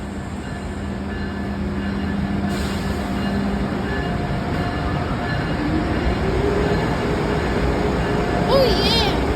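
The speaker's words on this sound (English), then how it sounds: "Alright, the Acela Express is out of here." An Acela Express train pulls away from a station with a continuous rolling rumble and faint rail squeal. Brief high squeaks come near the end, and voices are faintly present under the train noise.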